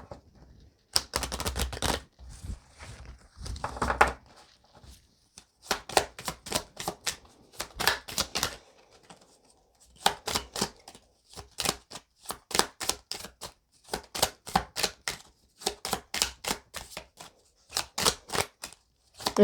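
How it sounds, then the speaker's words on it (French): Tarot cards being shuffled by hand, close and fairly quiet, in repeated bursts of rapid, riffling clicks separated by short pauses over about twenty seconds, with no talking. "Alors, je vais prendre une carte de tarot."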